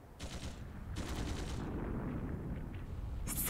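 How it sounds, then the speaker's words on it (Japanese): Gunfire in the video game Kuro no Kiseki II: bursts of rapid automatic fire under a dense, rumbling battle din, with a sharper burst at the end. "銃声。"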